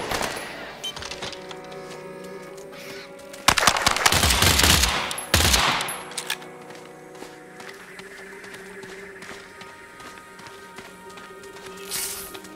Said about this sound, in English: Hey! It's a combat rifle!